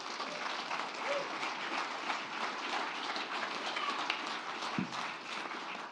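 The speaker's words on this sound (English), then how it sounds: "Round of applause, please." An audience at a startup investment pitch night gives sustained, even applause, a continuous wash of many hands clapping at moderate distance for several seconds.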